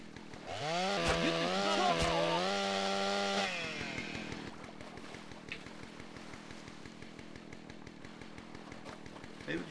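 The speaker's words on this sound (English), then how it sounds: "I don't want to give up my chainsaw." A chainsaw in the video game GTA San Andreas revs loudly with a rising, whining engine pitch for several seconds, then drops to a quieter idling rattle that runs to the end.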